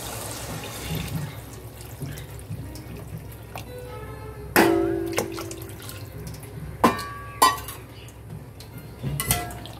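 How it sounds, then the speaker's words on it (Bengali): Hot water pours into a pot of Gobindobhog rice and fish heads with a low running gush. Several sharp clanks of metal utensils against the pot cut through the pour. "এবার আমি জল দেব। জলের পরিমাণটা কিন্তু একটু বেশি দিতে হবে, আর গরম জল দেব"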